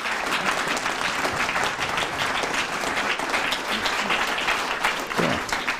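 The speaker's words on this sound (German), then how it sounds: "bitte Sie bitte nochmal um einen großen Applaus" Steady, dense applause from an audience filling an academic ceremony hall, continuous and loud for several seconds with no speech over it.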